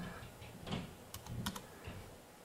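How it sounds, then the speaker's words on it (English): Keys clack on a Bluetooth keyboard as a pairing code is typed, a short run of quiet, close taps in an otherwise still room. "now it's telling me to go ahead and type a code into the keyboard"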